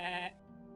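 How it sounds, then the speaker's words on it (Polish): A single sheep bleats loudly in a video game, a short wavering cry that stops abruptly and leaves a low lingering tone. "Dlaczego ja gadam z owcą?"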